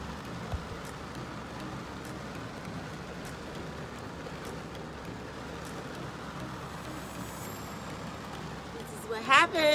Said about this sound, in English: now it's like really raining